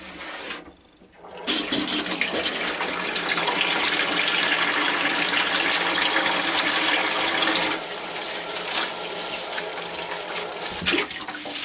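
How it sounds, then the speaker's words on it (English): Water pours steadily into a jar of lacto-fermenting carrots, a loud continuous splashing rush that starts after a brief pause and eases slightly toward the end. "just put some water in there"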